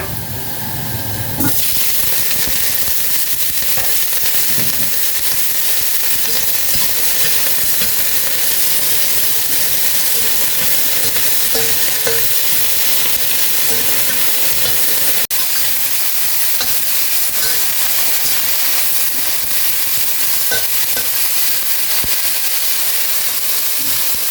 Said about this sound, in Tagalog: So unahin muna natin yung garlic sa pag-fry.